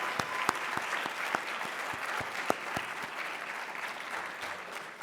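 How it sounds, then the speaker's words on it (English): Convocation audience at a college of medicine awards ceremony applauding class representatives, a steady, dense clapping of many hands filling the hall with a few sharper claps standing out, no voices over it. "Let's have a round of applause for all of your class representatives."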